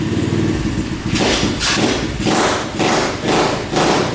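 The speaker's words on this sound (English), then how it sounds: "So Evan just fired up my auto bike. Started right up, I think." An SSR 125 pit bike with an automatic gearbox runs close by, its single-cylinder engine a loud, steady rumble with rhythmic surges and thumps repeating roughly every half second.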